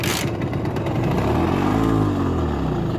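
A Simson S51 motorcycle with carburetor problems runs close by and loud, its engine idling unevenly and surging as the revs dip and rise over a few seconds, with no voices.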